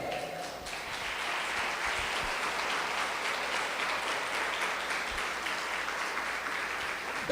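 Church congregation during a worship service applauding together, a sustained wash of many hands clapping at moderate volume in a reverberant hall, steady throughout with no talk over it.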